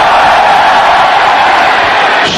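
A big stadium crowd roars steadily at night during the 1995 Alamo Bowl football game between Michigan and Texas A&M, a loud, dense, unbroken wall of cheering and shouting.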